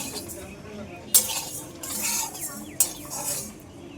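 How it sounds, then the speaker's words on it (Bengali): Utensils clink and scrape against a pan over a soft background crackle of mustard seeds spluttering in hot oil, with two sharp metallic knocks standing out. "দেখো সর্ষেগুলো কিন্তু ফুটতে আরম্ভ করে দিয়েছে"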